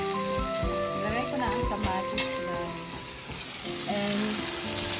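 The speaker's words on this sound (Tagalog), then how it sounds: "nagisa na ako dito ng bawang at sibuyas" Garlic and onion sizzle and crackle steadily in a hot pan, with clinks and scrapes as the mixture is stirred. It is fairly quiet and close.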